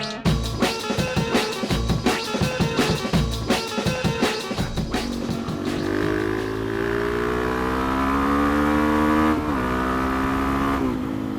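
Suzuki DRZ motorcycle being ridden, engine revving in quick pulsing bursts through several gear changes, then settling into a steady rising drone as it pulls away, loud and close with no talking.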